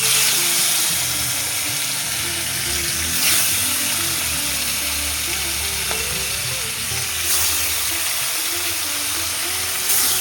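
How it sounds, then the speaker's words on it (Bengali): Fish fry in hot oil in a home kitchen, giving a loud, steady crackling sizzle with small spits and pops throughout and no talking. "তেলটা গরম হয়ে গেছে, চলো মাছগুলোকে দিয়ে দিই।"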